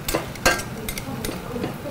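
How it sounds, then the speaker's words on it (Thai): Mushrooms being stir-fried in rice bran oil in a pan that just cooked shrimp: scraping utensil strokes and clinks over a soft, steady sizzle, close by. "หลังจากที่เราผัดกุ้งเสร็จนะครับนี่ต่อเลยด้วยเห็ด"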